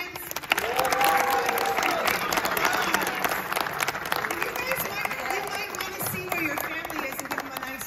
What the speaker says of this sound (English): what it sounds like to have some big applause out in the house